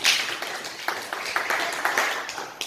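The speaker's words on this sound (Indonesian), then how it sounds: "Tepuk tangan dulu buat Tiara dan Lita." A classroom of students claps for two classmates, a short burst of scattered, moderately loud applause that thins out after a couple of seconds.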